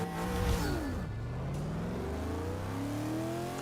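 Engine of a naturally aspirated car with a stock, fully upgraded motor and no forced induction in the racing game Forza 6, rising steadily in pitch through the gears as it accelerates, with a constant moderate drone and no voices.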